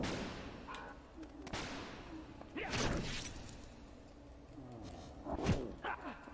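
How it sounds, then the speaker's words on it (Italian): A dog in Vagrant Story barks a few times at moderate distance, short sharp yelps scattered among thuds and hits of combat. "C'è anche un cane da qualche parte, probabilmente là sopra."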